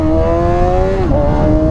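Sustained motorcycle engine revving near and loud on a Suzuki GSX-R doing a wheelie in the hills of southern France, pitch holding steady then dipping briefly before rising again.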